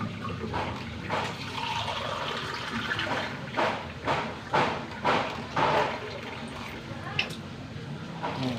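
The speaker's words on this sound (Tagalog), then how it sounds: "Isang basong tubig. Ay, isang basong tubig." A glass of water is poured into a cooking pot while cassava is being boiled, giving several splashing pours in uneven bursts under a voice talking nearby.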